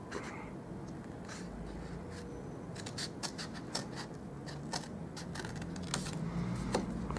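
Scissors or a blade cut quietly through paper at close range for a gift box, a string of soft, irregular snips and scratches over low room noise.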